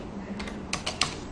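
A few quick keystrokes tap on a computer keyboard, close and fairly quiet, with three distinct clicks near the end of the brief moment.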